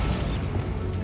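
The Bombarda blasting spell goes off in Hogwarts Legacy as one short, heavy low boom with a brief crackling burst at the start, then a quickly fading rumble.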